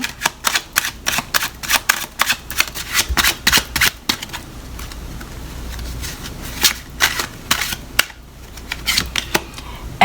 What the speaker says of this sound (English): Let me go ahead and just pull 2 clarifying cards for you.